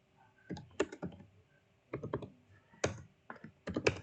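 Quiet bursts of typing on a computer keyboard as commands are entered in a Linux Ubuntu terminal: several short clusters of rapid clicks separated by brief pauses, close and alone.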